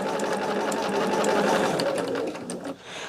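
A sewing machine stitches a quilt in a steady, continuous whir that runs close and loud, then slows and drops off near the end.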